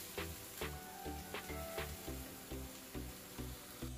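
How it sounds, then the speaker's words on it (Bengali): Onion paste with whole spices frying in oil, a soft sizzle broken by regular spoon stirs and scrapes roughly twice a second, fairly quiet and close. "স্পুন দিয়ে এগুলোকেও ভালো করে নেড়ে চেড়ে নিয়ে তেলের মধ্যে আমি কিছুক্ষণ ভেজে নেব।"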